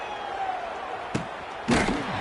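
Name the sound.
American football punt being kicked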